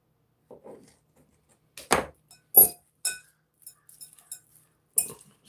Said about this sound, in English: Just going to stir that around because you want some of that dressing on those beets.